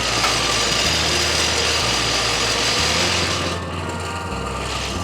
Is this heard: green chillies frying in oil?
no